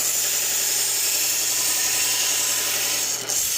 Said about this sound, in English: Grind the bevel on one side